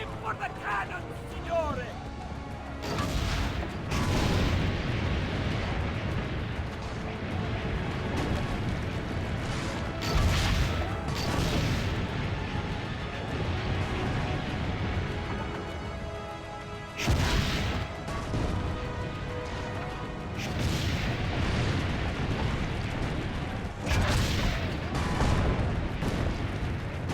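Cannon fire booms repeatedly in an Assassin's Creed Brotherhood battle, loud broadband blasts recurring every few seconds over a dense layer of game clatter, music and voices.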